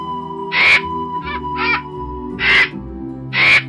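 A cartoon crow caws loudly in five sharp, separate calls over a steady musical backdrop.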